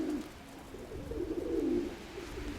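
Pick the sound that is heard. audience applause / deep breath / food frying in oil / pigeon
pigeon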